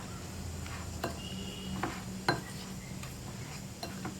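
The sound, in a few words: mixing cauliflower with spices and rice flour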